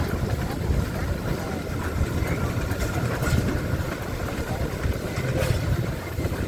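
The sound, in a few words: steam traction engine driving past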